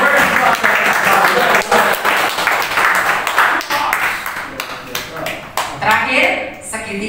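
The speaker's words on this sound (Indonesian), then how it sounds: "Kita lakukan aplaus Bapak Ibu buat kita semua" An audience of teachers claps loudly together at a school training session, a dense, steady burst of applause that thins out toward the end into scattered claps.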